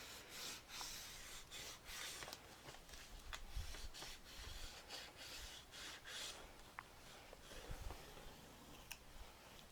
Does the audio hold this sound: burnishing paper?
yes